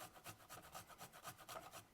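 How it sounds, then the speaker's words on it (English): Fresh ginger grated into an empty pot, a soft rhythmic rasping in quick regular strokes, faint and close with no talking. "So you grate it into an empty pot."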